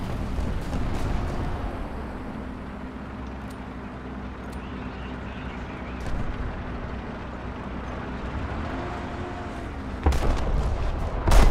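Muffled gunfire and booming blasts from a team-based shooter video game sit over a constant low rumble, with scattered sharp reports and a louder burst of fire toward the end.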